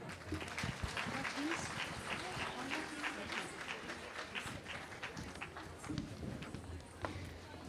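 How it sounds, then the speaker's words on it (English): Applause at a women's award ceremony: a large audience claps steadily and continuously, a dense, even patter that holds its level throughout. "Could we have another big round of applause for Dr. Jenny?"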